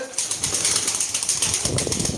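Flock of pigeons flapping their wings close by, a rapid rhythmic fluttering beat that builds and continues without talking.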